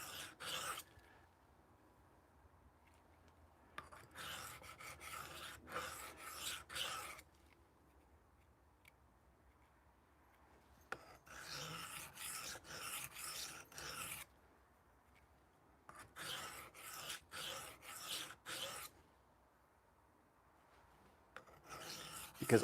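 A knife blade scrapes in quick back-and-forth passes over a sharpening stone to raise a burr, coming in several separate rasping bursts with quiet gaps between them, close and fairly faint.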